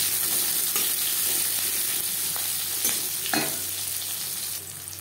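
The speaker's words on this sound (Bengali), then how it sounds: "জিরে ভেজে নেওয়ার পর দিয়ে দেব পেঁয়াজ। একটা পেঁয়াজ আমি এখানে স্লাইস করে কেটে নিয়েছি।" Sliced onion fries with cumin seeds in a pan, making a loud, continuous sizzle with occasional stirring scrapes and taps throughout.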